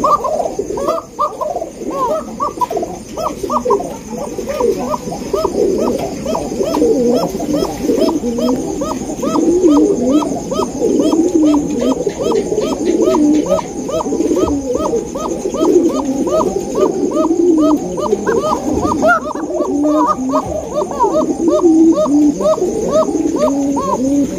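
Bombay pigeons at a pigeon farm coo in a steady, rhythmic chorus of repeated throaty calls, fairly close and loud, continuing throughout with no talk.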